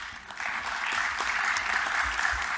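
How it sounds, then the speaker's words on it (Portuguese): Audience applause at an OAB legal event, a steady moderate wash of clapping rising shortly after the start and holding evenly, with some low thumps near the end. "agora uma salva de palmas especial para o nosso querido doutor Antônio Marcos Barbosa Fontes"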